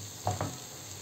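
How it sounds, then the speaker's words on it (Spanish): Rice frying in a paella pan with a steady soft sizzle and two short scraping stirs, faint and close, no voices. "Y ahora le voy a echar el doble del caldo de pollo que hicimos."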